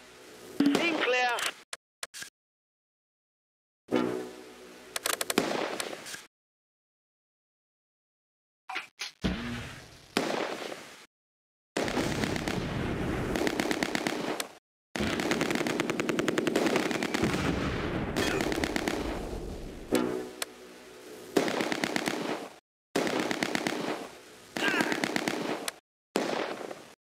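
Rapid bursts of machine gun fire and other gunshots in the wartime strategy game Close Combat 2, set during the Oosterbeek operation, come in loud, broken clusters separated by silences, with short voice callouts from the game mixed in.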